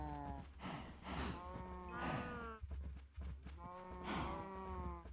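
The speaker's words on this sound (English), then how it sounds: "Hello, cows." Cows in the video game Minecraft mooing, several long, deep, drawn-out moos overlapping one after another at close range, with no talk over them.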